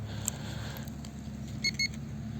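Two short, high electronic beeps from a metal detector sweeping a playground near the end, over a steady low hum of outdoor background noise.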